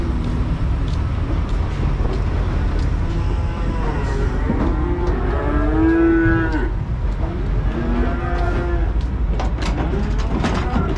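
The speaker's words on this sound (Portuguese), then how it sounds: "os bois daqui tá mugindo" Cattle moo in long, low calls from a short distance, layered over steady engine and road noise.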